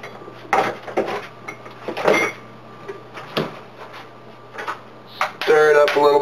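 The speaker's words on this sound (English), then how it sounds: "Stir it up a little bit more." A spoon stirring coconut milk in a cup, giving a few quick clinks and scrapes against the sides amid kitchen clatter, close and fairly loud.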